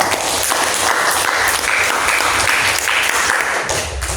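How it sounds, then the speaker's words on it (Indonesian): A classroom group gives a dense, steady round of clapping at the close of a lesson, many hands together and close by, lasting a few seconds with no talk over it. "Kita beri aplaus untuk kita semua."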